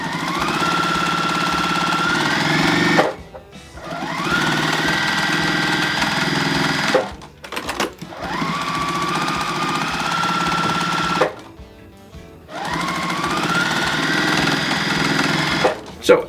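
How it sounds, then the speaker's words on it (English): A sewing machine stitching quilt triangles runs in steady, loud bursts of about three to four seconds each, separated by brief pauses, close to the listener. "So as I'm starting to sew here,"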